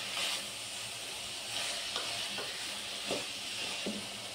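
Soybean pulao sautéed and stirred in a pan over a medium gas flame, a steady close sizzle and hiss broken by a few soft scraping stirs.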